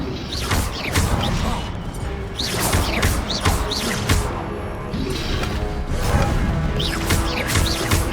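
A fire spell cast in the video game Hogwarts Legacy, a dense burst of whooshing, crackling magical effects with repeated impacts and crashes, loud and continuous over busy game sound.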